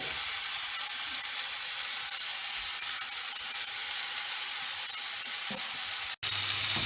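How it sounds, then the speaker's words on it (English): Beef pieces for English beef stew fry in a hot pan, a constant close, bright sizzle that holds steady throughout, broken by a brief dropout near the end. "they're frying all the time. What you don't want them to do is to start boiling, so they need to fry until they're nicely brown"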